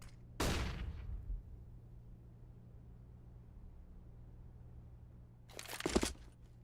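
A flashbang grenade goes off in Counter-Strike: Global Offensive, a sharp bright burst followed about five seconds later by another loud crack, over a low steady hum with no talk.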